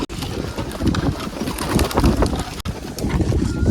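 Pigeons gathered outdoors while being hand-fed grain, with soft cooing and flutters close by, blended into steady wind buffeting the microphone and a couple of brief dropouts.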